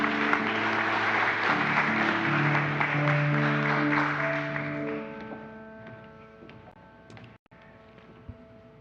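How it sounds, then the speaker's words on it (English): Congregation applauding as Miles takes the pulpit, with an organ or sustained musical chords playing beneath; the clapping is full at first, then thins out and fades while the music continues. "Applause for Miles as he takes to the pulpit."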